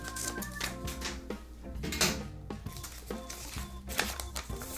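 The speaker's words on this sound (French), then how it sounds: "Je prends des ciseaux, je découpe et regarde ce qui va se passer." Scissors snip through a paper airplane with quick repeated crisp cuts and paper rustling, under soft background music.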